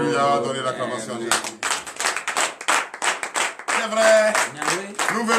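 A church congregation at a Beninese morning prayer service claps and cheers in praise, bursts of applause and shouting rising after sung voices, with a lead voice and crowd voices mixing in throughout.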